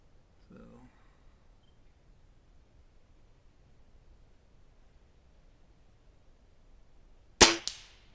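A single .22 shot from a Weihrauch HW97K synthetic stainless air rifle strikes a steel diamond target at 29 yards, a sharp loud crack with a brief ringing tail after a short stretch of quiet and a faint voice early on.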